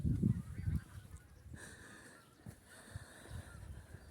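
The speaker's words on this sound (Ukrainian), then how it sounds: "Чудові птахи символ весни, ключі гусей." A flock of geese flying in formation honks in a loud burst at the start, then keeps calling more faintly from a distance through the rest of the clip.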